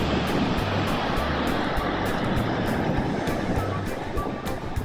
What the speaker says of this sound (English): the volume of water going over the falls is higher than many people can remember for many years